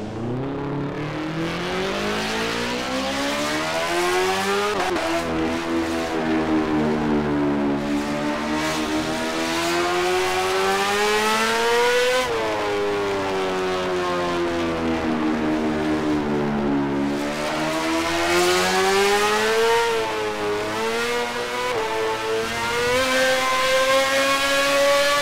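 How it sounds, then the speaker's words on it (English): A Kawasaki racing motorcycle engine in the GP Bikes game hums at a steady low idle with the clutch in, its pitch sliding slowly up and down with occasional blips, loud and close throughout with no talking. "I have the clutch in just so the bike is barely idling"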